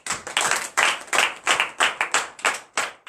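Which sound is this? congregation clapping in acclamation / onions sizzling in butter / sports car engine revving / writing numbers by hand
congregation clapping in acclamation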